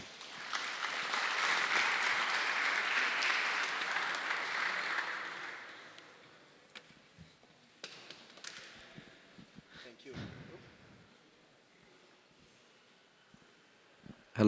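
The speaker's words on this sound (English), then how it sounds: "please give him a big round of applause" Conference audience applause as a guest comes on stage at a London payments event, a dense steady clapping that rolls for about six seconds before thinning into scattered claps and faint room noise.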